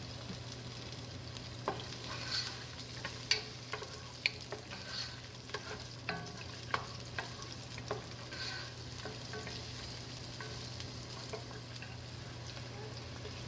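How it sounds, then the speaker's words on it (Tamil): Onions sauté in a pan for curried veggie pasta, giving a low continuous sizzle with a few sparse, faint clicks of a stirring utensil against the pan. "இப்போ வெங்காயத்தை சேர்த்து ஒரு 2 நிமிடம் வதக்கிக்கலாம்."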